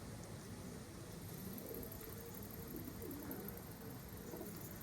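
Young pigeons are let out to fly for the first time among coconut and other trees. Their soft, distant cooing sits low under a constant outdoor background hum.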